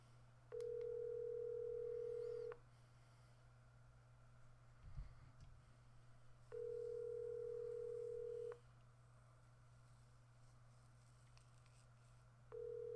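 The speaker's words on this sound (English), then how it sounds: "We're gonna go ahead and three-way Zach really quick" A telephone line tone sounds while a three-way call is being placed, repeating as steady two-second beeps roughly every six seconds. The tone is clear but fairly quiet, over a low hum, with no talking.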